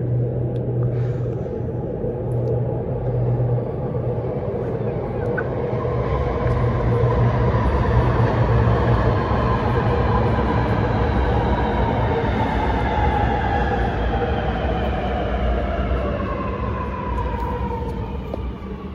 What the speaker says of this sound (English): The train to Sydenham is going to enter platform number 2.